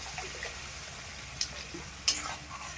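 Water hits hot oil in a pan for prawn, potato and coconut kofta gravy, giving a close, steady sizzle broken by a couple of sharp utensil clinks.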